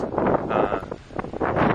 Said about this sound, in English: So here comes a wind gust.